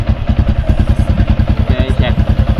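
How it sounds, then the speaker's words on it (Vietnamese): A Yamaha Exciter 135 motorcycle engine chugs with a steady, rapid thumping pulse close by, loud and even throughout the short stretch. "Về máy em thử nè. Nói chung là đề rất ngọt."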